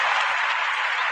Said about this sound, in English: Let me give everybody a clap that's coming to the chat room again.